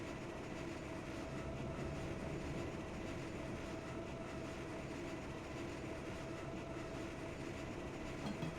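A long train rolling along the rails in Train Simulator 2020, a continuous low rumble with a faint hum and steady wheel noise, moderately quiet and unbroken for several seconds.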